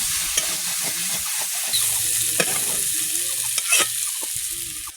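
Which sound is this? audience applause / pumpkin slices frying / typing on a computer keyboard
pumpkin slices frying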